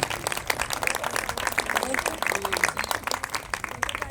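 Applause from an audience at a Sabhagayan singing program, honouring a young girl singer named Saanvi; scattered clapping runs steadily through the clip at moderate level, thinner than a full roar, with some voices mixed in.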